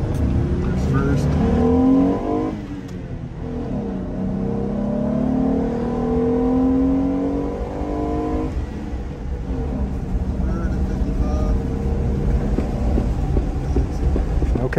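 A Jeep fitted with an AFE cold air intake and Flowmaster Outlaw Extreme exhaust drives nearby, its engine rumbling and revving up through several gear pulls, with a person talking over it at times.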